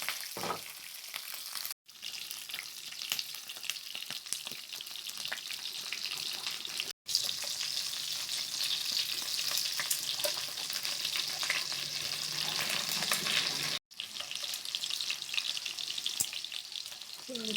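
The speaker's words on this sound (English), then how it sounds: "So let's start to do fry the prawn, guys" Prawns fry in a hot pan for an Asian recipe, a loud continuous crackling sizzle with occasional stirring clatter, briefly cut by short gaps.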